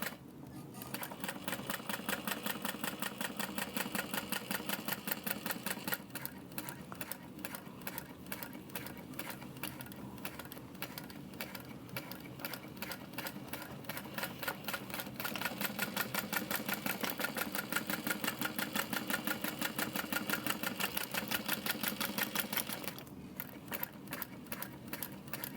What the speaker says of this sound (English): I'm gonna stitch down about 1/8 of an inch along the inside edge